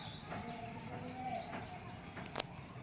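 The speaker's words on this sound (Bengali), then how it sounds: "আর সঙ্গে পাখির কিচিরমিচির ডাক শুনতেই পাচ্ছ" Small birds chirp intermittently from a flowering kanchan tree, a few faint high calls and one sharp tweet over a steady outdoor hum, with no talking.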